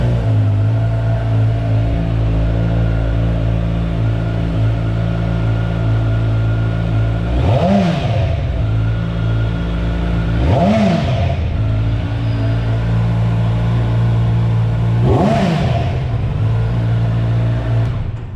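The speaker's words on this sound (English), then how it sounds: "let's turn on the bike and let's hear the exhaust note" A 2022 Kawasaki Z900 motorcycle engine idles with a steady low drone, revved three times in sharp rising-and-falling bursts of exhaust note.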